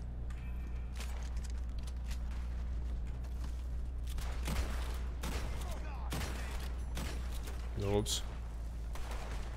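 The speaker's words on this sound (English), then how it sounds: "Let's use a shotgun." Shotgun blasts fire in Red Dead Online, a few sharp broadband bangs spread across a steady game background with music and ambience, while a voice talks briefly over the play.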